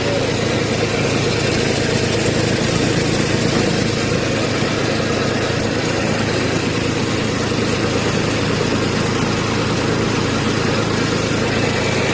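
A steady, low engine idle of a used Kubota B27 tractor runs continuously at close range, a constant rumble with no changes in pace or pitch.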